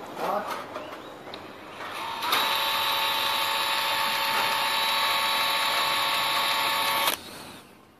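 Dewalt DCF894 cordless impact wrench on a 20V battery running at its lowest speed setting: a steady high-pitched motor whine held for about five seconds after some handling clicks, then cut off abruptly.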